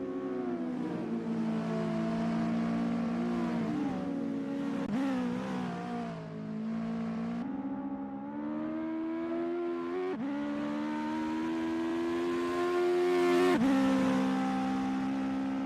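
US Legend race cars circling Mid-Ohio in a racing video game, engines droning steadily at high revs with rising and falling pitch as they shift, loud and continuous with no talk.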